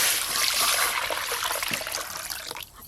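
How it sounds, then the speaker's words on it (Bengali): Phesa fish oil curry is poured out of a pan, a close liquid trickle and splatter that thins out and fades toward the end. "ফেসা মাছের তেল ঝাল হয়ে গেল, এবার ঢেলে নেব"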